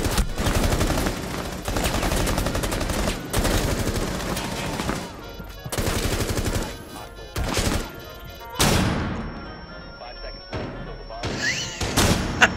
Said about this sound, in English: I'm throwing grenades at him.